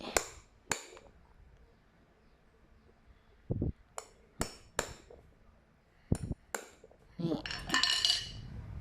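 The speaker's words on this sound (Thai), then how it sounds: "เจาะสองขอบแบบนี้นะคะ" Sharp, separate knocks and punching thuds strike at irregular intervals as holes are punched through both edges of a woven basket over a cutting board, with a rustling, scraping burst near the end; no talking.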